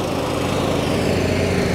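A riding lawn mower cuts grass nearby, its engine droning loud and steady with a rough, buzzing hum that holds without pause.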